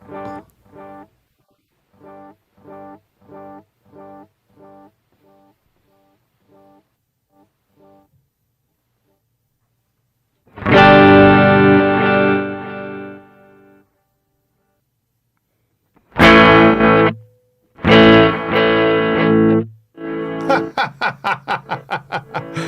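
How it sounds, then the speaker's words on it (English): A guitar runs through an echo effect with the mix turned all the way up. Short plucked notes repeat and fade, then loud, full chords ring out with quick trailing repeats, and no one speaks. "Got to turn the echo on for this."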